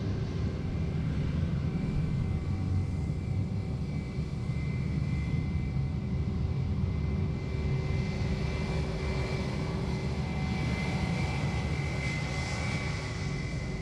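Aircraft engines roar steadily and loudly at Sydney Airport as planes depart and arrive, a continuous dense drone with tonal hum lasting throughout, with no talk over it.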